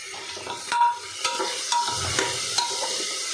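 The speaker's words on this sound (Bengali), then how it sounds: "চিকেনটা একটু ভাজা ভাজা হয়ে যায় আদা রসুনের সাথে" Chicken pieces fry in a pan with ginger and garlic, a close continuous sizzle broken by regular scraping stirs of a utensil, with no talk.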